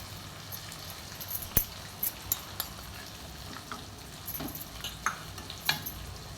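Curry leaves and tomatoes frying in a pan for a cauliflower dish, a faint steady sizzle broken by a few soft stirring clicks and scrapes, close and quiet.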